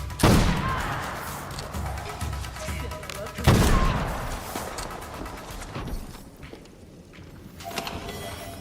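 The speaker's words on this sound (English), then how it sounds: "who the fuck is shooting at me?" Gunfire crackles in a video game, with two sharp loud bursts a few seconds apart, each trailing into a decaying rumble, followed by quieter background sound.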